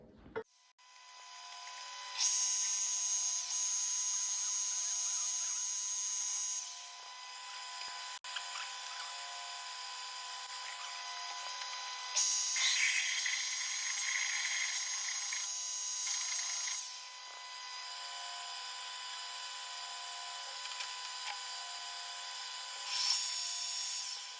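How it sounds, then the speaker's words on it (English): A lathe drills a hole through a metal part for a centrifugal slurry pump, giving a thin, steady high whine and scraping squeal in long passes, with brief pauses between runs. "I'll just quickly put that in the lathe, drill a hole in it"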